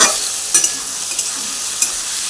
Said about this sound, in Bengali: চিংড়ি মাছগুলো সব দিয়ে দিয়েছিলাম হালকা লাল লাল করে ভেজে নিতে হবে